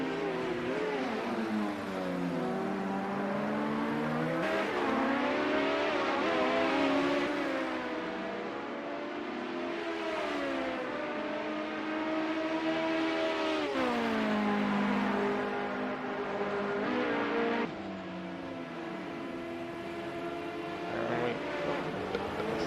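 Race cars lap Hockenheim GP in Project Cars 2, a steady layered engine whine with gliding pitch sweeps as several cars rise and fall through gears, continuous and fairly close throughout.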